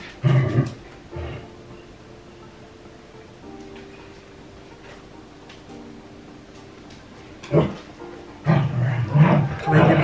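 Dogs make short, close bursts of barking and whining at the start and again near the end, with a quieter indoor stretch in between and some voice-like sounds mixed in.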